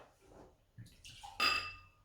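A small splash of gin poured into a glass: a few brief, soft liquid and glassy clinks, ending in one short, brighter pour near the end, close up with no talk.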